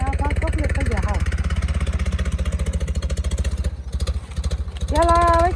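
A tractor engine runs with a steady, close, low chugging beat throughout, and a tonal voice or music rises over it near the end.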